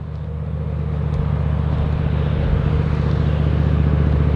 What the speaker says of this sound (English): there's a loud-ass truck coming through